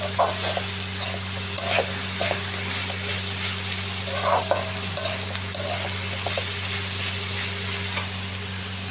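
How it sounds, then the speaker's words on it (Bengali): Flat beans with onion and chili fry in a pan, a continuous loud sizzle broken by repeated scraping stirs of a spatula against the pan. "এই যে সিম ভাজি করতেছি"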